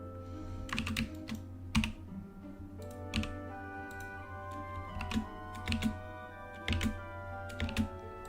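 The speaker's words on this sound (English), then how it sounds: "my mouth is going to be moving a bit when I use my keyboard because I have a loud keyboard" Steady typing on a loud computer keyboard during a Blender modeling session, with bursts of sharp clacks and key thuds in irregular runs, close and clear, with no talk.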